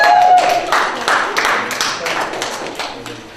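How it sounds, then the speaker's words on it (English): A small group at a school poetry slam claps in sparse, uneven bursts, individual hand claps audible rather than a full roar, fading as a voice starts talking over the last claps. "That's a great applause, people."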